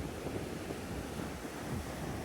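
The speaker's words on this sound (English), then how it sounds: "although the wind's blowing" Wind blows steadily at Bournemouth beach on a wet evening, with surf rolling in beneath it. A dense, continuous roar of wind buffeting the microphone mixes with the wash of waves, with no voices.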